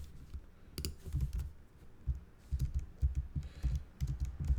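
Keys being pressed on a keyboard while entering the Shift Command backslash shortcut, a series of soft, close clicks and taps in irregular clusters with no voices.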